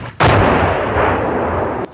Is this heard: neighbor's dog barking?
no